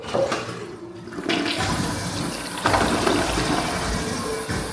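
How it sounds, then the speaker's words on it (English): A household toilet with an easy-flush handle flushes nearby, a loud rushing surge of water that continues as a steady swirling drain and refill. "We have the easy flush right here."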